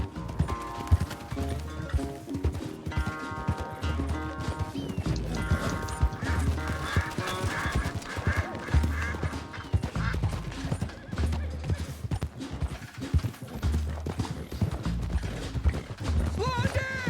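Horse hooves clop in a fast, steady gallop during a horse race in Red Dead Redemption 2, running under a dense bed of game music with occasional brief voices.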